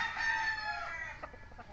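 A rooster crows once nearby, a loud drawn-out call that trails off into a few softer clucks, with no other voices around.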